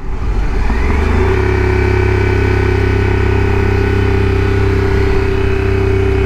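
A motorcycle engine runs steadily in first gear, loud and close, with a constant low drone and a slight rise in pitch early on, heard alone without voices.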